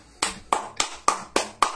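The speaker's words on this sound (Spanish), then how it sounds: "Aplausos para ustedes." Six sharp hand claps in a steady rhythm, close and loud, closing a home functional training workout session.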